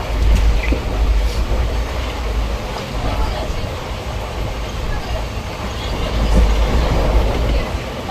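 A train rolls along, heard from inside a sleeper berth carriage as a steady rumbling roar with faint rhythmic wheel clatter and occasional murmuring voices.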